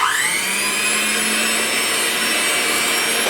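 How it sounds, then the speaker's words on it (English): A Cuisinade electric hand mixer beating cake batter for a pumpkin ricotta cake, a loud continuous high motor whine that rises in pitch at the start and then holds steady throughout. "review on this Cuisinade, not Cuisinart, but Cuisinade mixer, and I love it. So I'm gonna mix up my cake mix with this."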